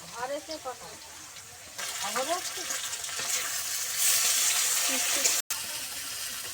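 Tomato, onion and ginger-garlic paste hit hot oil in a pan for a fish curry, a broad sizzling hiss that starts partway through and swells louder, with a voice speaking over the opening moments.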